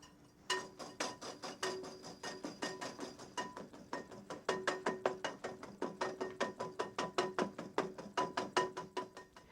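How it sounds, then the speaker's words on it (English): Electric mixer whisking meringue in a professional kitchen, a steady, rapid rhythmic clatter of beaters against the bowl, close and continuous with no talk. "the chef switches to an electric mixer"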